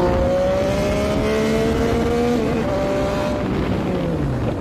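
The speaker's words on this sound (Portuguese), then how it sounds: "A moto tá vindo a milhão." A motorcycle races past at very high speed, a loud, continuous engine whine that holds steady, then drops in pitch as it goes by, over constant road noise.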